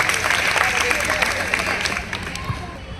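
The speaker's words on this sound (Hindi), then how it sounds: "जोरदार तालियां बच्चे के लिए" Applause from an audience at a ceremony honouring daughters, clapping for a young girl; dense, steady clapping that thins slightly toward the end, with voices mixed underneath.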